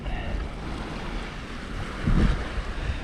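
A sailboat under motor drives through waves near Quadra Island. Steady wind buffets the microphone and water washes and rushes past, with a brief louder splash partway through.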